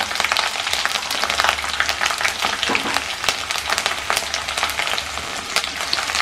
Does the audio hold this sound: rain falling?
no